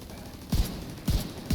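Turret gunfire in The Division 2, with three sharp close shots spaced about half a second apart, each a low punchy thump with a bright crack.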